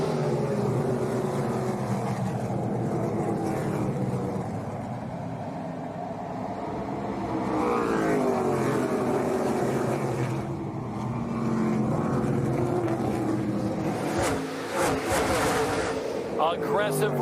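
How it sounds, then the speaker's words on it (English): ARCA Menards Series stock cars roar through the opening lap at Toledo Speedway, their engine noise steady and loud throughout. Commentators talk over it the whole time. "Aggressive racing here on the opening lap."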